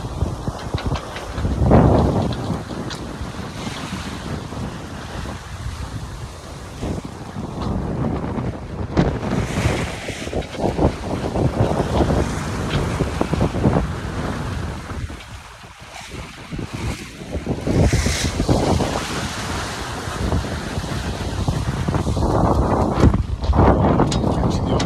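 A sailboat runs off the wind in a good breeze. Wind buffets the microphone and waves rush steadily against the hull, loud and continuous throughout, with a voice talking faintly at times.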